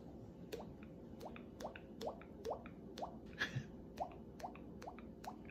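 A voice imitates water dripping with a steady series of short, high plinking pops, about two per second, quiet and close.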